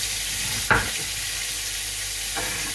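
Cod searing in a frying pan for a Portuguese-style dish, a steady broadband sizzle throughout with a brief louder clatter near the start as it is stirred or moved, no talking.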